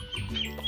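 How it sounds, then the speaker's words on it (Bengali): Birds call briefly in a tea garden in the morning, a short cluster of chirps and clucking notes over a soft outdoor background. "চারিদিকে পাখির ডাক সকাল সকাল।"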